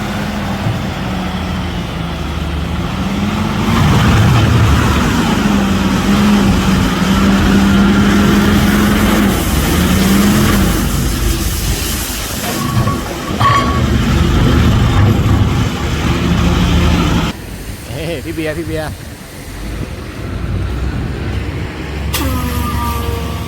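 A wheel loader works under a covered concrete batching plant, its diesel engine rumbling loudly with rising and falling revs, then cutting out with clanks and mechanical knocks near the end.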